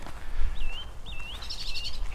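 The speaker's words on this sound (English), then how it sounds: "I've had a song thrush and a chaffinch up here making the most beautiful noises for the last hour." Songbirds, a song thrush and a chaffinch, singing outdoors at a plant nursery on a cool, calm day: a few clear whistled phrases, then a busier twittering burst, moderately distant over low background rumble.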